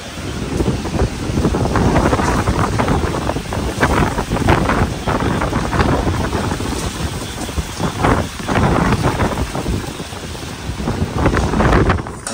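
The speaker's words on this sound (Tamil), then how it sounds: "காற்றும் பயங்கரமாக அடிக்குது" Strong stormy wind roars during a heavy rainstorm in a village, buffeting the microphone in loud, surging gusts that rise and fall over a constant rushing roar.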